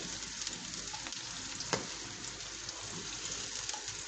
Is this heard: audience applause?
no